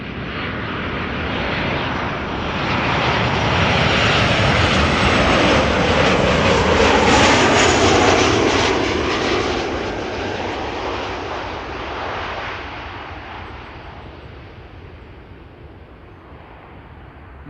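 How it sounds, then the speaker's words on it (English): A KLM Boeing 737 jet passes on arrival at Amsterdam Schiphol, a loud, broad engine roar that swells to a peak mid-pass and slowly fades, heard alone without any voices. "we are first getting interrupted by a 737 from KLM"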